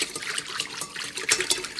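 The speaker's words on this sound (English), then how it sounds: "then I start to whisk it" Yeast being whisked into cold water in a bowl while making German bread rolls, a steady wet swishing and light splashing that keeps up a quick rhythm, close and alone.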